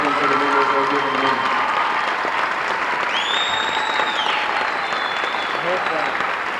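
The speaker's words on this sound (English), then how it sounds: "I think we should all give them a great big round of applause" A crowd claps for senior players at a 1996 Sitka High School boys basketball game against KayHi, the applause loud and steady throughout, with cheering and a few whistles rising over it midway.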